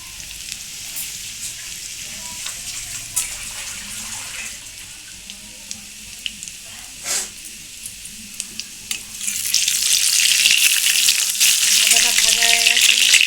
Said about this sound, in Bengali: একটু আদা আমি কড়াইতে দিয়ে দিলাম